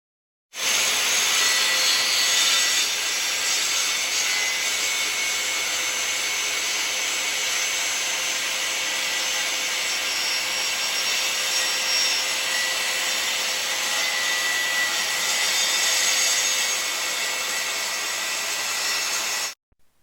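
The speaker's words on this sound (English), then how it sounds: "replicate and run the saw blade through each subsequent work piece line of travel" A circular saw rips diagonally through hardwood plywood with a continuous high, gritty whine. The cut runs loud and even for nearly twenty seconds, then cuts off sharply.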